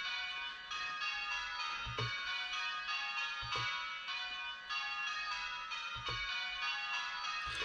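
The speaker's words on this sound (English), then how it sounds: "if I use the keyboard to kick in as bell number two" Church bells simulated by Virtual Belfry ringing software chime continuously in a dense, steady peal, with regular strikes spaced a couple of seconds apart and no voices.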